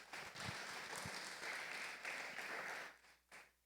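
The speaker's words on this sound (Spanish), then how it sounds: "Dele fuerte el aplauso al Señor." Church congregation applauding steadily, a dense continuous clapping that fills the space for about three seconds, then fades out briefly before a final burst.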